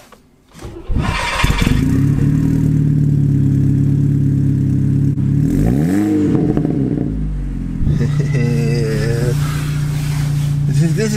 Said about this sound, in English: Listen to the noise this car makes on cold start.